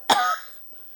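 A single sharp cough, close and loud, quickly fading in a quiet room.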